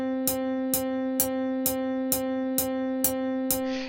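Kick drum struck on every quarter note, eight evenly spaced punchy hits over a sustained droning tone as a music-theory rhythm demonstration, steady and alone without talk.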